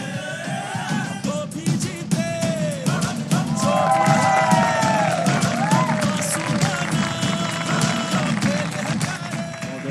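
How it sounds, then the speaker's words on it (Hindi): A studio audience claps and cheers with whoops and shouts over an energetic music bed, sustained and lively throughout, with a voice briefly audible. "बहुत सारी तालियां, यूनुस खान हमारे आज के मेहमान।"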